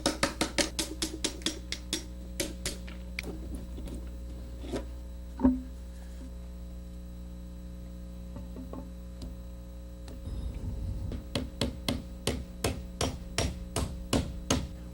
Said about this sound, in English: the rest are just to make it easier for me to chisel out